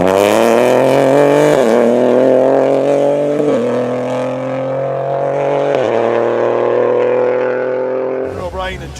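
Honda Civic rally car passing on a stage of the West Cork Rally, a loud, high-revving engine roar whose pitch climbs and drops through quick gear changes before it fades, with a commentator talking over it.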